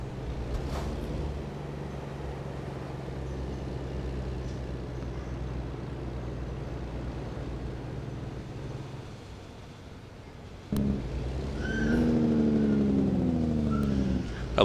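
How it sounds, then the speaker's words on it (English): Simulated heavy truck engine in American Truck Simulator, a low steady drone that drops away near the end, then a sharp click and a louder rattling, tonal engine-brake roar slowing the rig as it comes into a city zone near Stockton. "I love that Jake brake."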